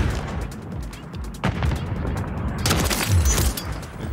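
Sniper rifle fire in a first-person shooter video game: two sharp, loud gunshot cracks about a second apart, each with a booming tail, over game background noise.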